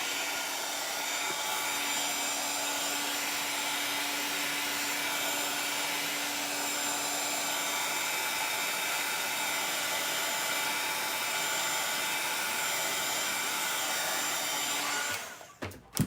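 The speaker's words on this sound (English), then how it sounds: "let me run the dryer over it real quick" A hair dryer blows with a steady, loud whir for about fifteen seconds, drying paint on a Christmas stencil, then switches off abruptly.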